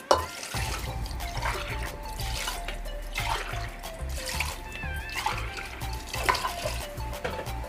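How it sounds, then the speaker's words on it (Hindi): Water pours steadily into a pressure cooker holding goat trotters, a continuous splashing trickle heard close up and alone for several seconds. "4 गिलास हम पानी ऐड करेंगे।"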